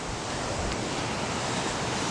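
Fast-flowing water at a waterfall roars as a steady, dense broadband rush, loud and unbroken throughout, with no voices.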